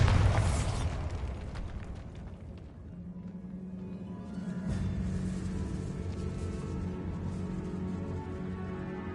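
Bombarda blasting spell going off in Hogwarts Legacy: a loud booming burst up front, then a rumbling, low-pitched decay with a sustained hum under it.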